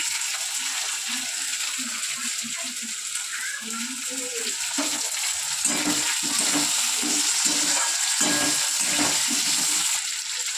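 Diced potatoes and tomatoes fry together in a hot pan, giving a loud, steady sizzle that runs throughout, with a few faint stirring sounds and a voice murmuring quietly beneath it in the first half.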